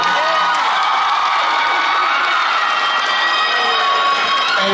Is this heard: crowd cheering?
yes